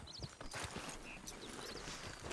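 Horse hooves clip-clop steadily while riding in Red Dead Redemption 2, a quick rhythmic trot of hoofbeats close up, with brief faint bird chirps in the game's background.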